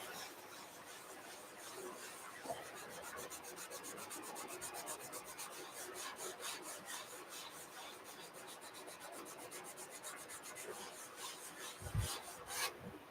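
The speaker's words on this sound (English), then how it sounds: "do you want to watch me sand?" A wooden Royal Game of Ur board is hand sanded with fast, continuous rasping strokes that hold steady and fairly quiet throughout, with a brief knock near the end.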